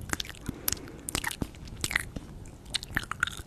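ASMR mouth sounds imitating crunching and biting on glasses: close, crisp crunches and wet clicks in an irregular rhythm, quiet and intimate, with no talking over them.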